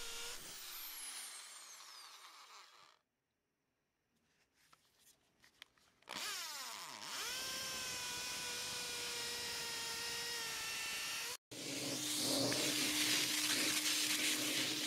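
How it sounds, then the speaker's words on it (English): A power drill runs steadily with a 5/16 masonry bit boring holes into a cement floor, loud and close, its pitch dropping as it bites in, with a short pause and a brief silent gap before drilling resumes. "Use the 5/16 masonry bit for the holes in the cement floor."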